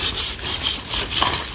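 A hand saw cuts through a sweet quỳnh kỳ vine in rhythmic back-and-forth strokes, about five rasping pulls, loud and close.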